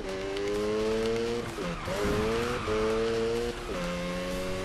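Tires of a Mazda RX-7 squeal and skid in the Need for Speed 2015 racing game as the e-brake is pulled, with loud revving engine tones that dip and rise through several slides.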